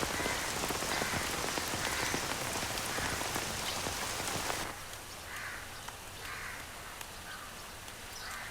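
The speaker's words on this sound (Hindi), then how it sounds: "ये बहुत तेज बारिश हो रही है।" Heavy rain pours steadily on surfaces, loud and dense at first, then somewhat softer; crows caw faintly in the distance.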